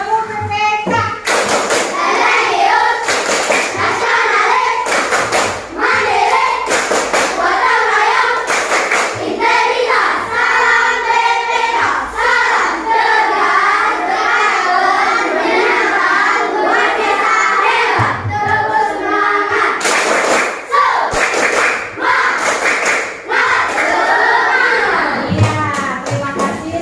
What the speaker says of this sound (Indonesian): kita akan lakukan tepuk PPK dulu ya